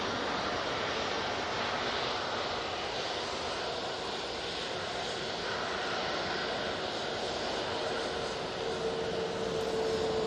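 A Ryanair airliner departing Manchester Airport for Genoa sends out a continuous, dense jet engine roar, steady and fairly distant throughout, with a faint rising tone late on and no voices.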